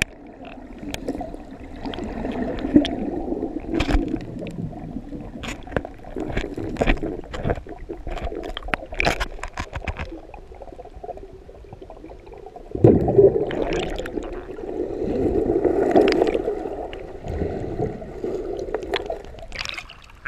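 Fast-flowing water in Clear Creek rushes and gurgles steadily near rapids, with bursts of splashing and a louder surge partway through, heard close from the water.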